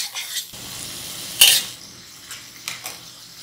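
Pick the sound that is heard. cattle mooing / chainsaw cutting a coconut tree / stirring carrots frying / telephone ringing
stirring carrots frying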